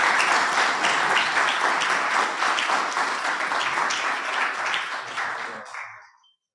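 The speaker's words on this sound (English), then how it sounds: "please give Doc a wonderful round of applause" Audience at a healthcare summit applauding after a doctor's presentation, a full, dense round of clapping that holds steady, slowly fades and stops abruptly near the end.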